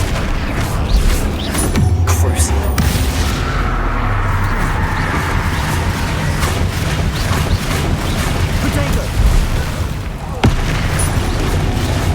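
Flipendo spell cast in Hogwarts Legacy: a sharp magical burst and boom punctuating a busy stretch of combat effects, with further thumps, whooshes and mechanical clatter continuing around it.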